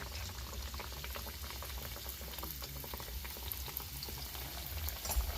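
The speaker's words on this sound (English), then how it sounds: "As the bottom fries in the oil and you throw oil on top, it helps cook it evenly and faster." Trinidad fry bake dough frying in hot oil in a pot while oil is splashed over the top, a steady faint bubbling sizzle throughout with no talk.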